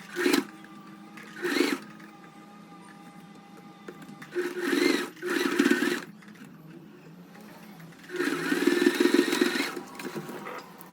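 A sewing machine stitches a fabric beach bag in several short runs of whirring, mechanical chatter separated by quiet pauses, the last run longest. The sound is moderately close and no one speaks.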